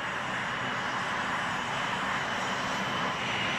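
A Fairchild Republic A-10 Thunderbolt II gives a steady, roaring engine drone that holds at an even, moderate level throughout, broad and hissing with no pauses.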